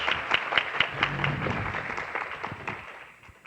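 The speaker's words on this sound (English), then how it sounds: "So if we can have a round of applause for our panel." A conference audience gives a round of applause for a panel on oral health and pregnancy, a brief, moderately loud burst of clapping that fades away toward the end.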